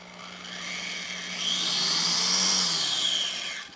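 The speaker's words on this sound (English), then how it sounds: "let's see if it's actually going to drill half and half." A power drill bores into a part from a 1961 Harley-Davidson FL 74ci panhead engine during a rebuild, one continuous whining run of a few seconds that swells then tapers off, heard alone.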